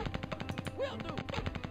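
Rapid machine-gun bursts from a Small Soldiers: Squad Commander battle. The shots come in an even, fast rhythm, loud and close, and break off briefly in the middle before the firing resumes.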